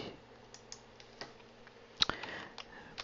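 Quiet clicking of computer keyboard keys typing a short word, a handful of light, irregular taps with one sharper keystroke near the end, close and faint against a soft room hum.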